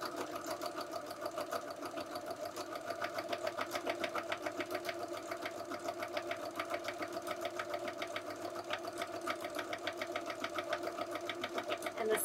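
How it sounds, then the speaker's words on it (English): A sewing machine stitches along the teeth of an invisible zipper on a pillow, a continuous close, even mechanical hum with a fast regular needle pulse throughout and no talk. "now we are going to stitch right along our teeth"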